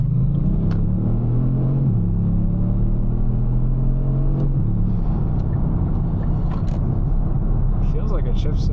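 A Kia Stinger GT fitted with a BMS TCU accelerates under manual gear shifts. Its steady engine drone climbs in pitch, drops sharply at each shift and climbs again, loud and close throughout with a constant rumble underneath.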